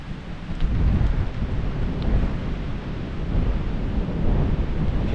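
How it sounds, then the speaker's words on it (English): Thunder rumbles across the Scottish wilderness during a thunderstorm on a hiking and camping trip, a deep, continuous low roll blended with wind noise on the microphone, steady and fairly loud throughout. "I can hear the thunder."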